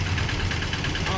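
A Mitsuyama 550GE power weeder engine runs steadily at idle, a loud continuous mechanical drone with a low throbbing pulse, close by and unbroken for the whole moment.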